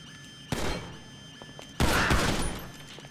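Gunfire in Grand Theft Auto 5: two loud bursts of shots, a short one near the start and a longer rattling volley about a second later, over quiet background game ambience.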